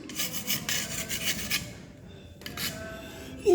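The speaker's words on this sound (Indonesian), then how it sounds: "Untuk meratakannya nanti bisa diamplas ya." Sandpaper rubs back and forth over a patched crack in a wall, giving short raspy scraping strokes in two bursts with a brief pause between, close and fairly loud.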